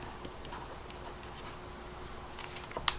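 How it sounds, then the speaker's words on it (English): A pen writing a signature on a handmade greeting card, a faint soft scratching with quiet strokes that grows a little busier near the end, closing with a short sharp tap. "then you can sign your card"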